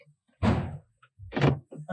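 Central locking actuators on a BMW E70 X5 thunk as the door locks release, several dull mechanical clunks in quick succession, fairly close and loud, with quiet gaps between them.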